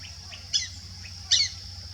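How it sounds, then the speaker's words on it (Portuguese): A white-faced whistling duck (marreca cabocla) perched in a tree on a trail gives two sharp, high whistled calls about three quarters of a second apart, clear against a quiet low background hum. "A primeira vez que eu registro essa marreca"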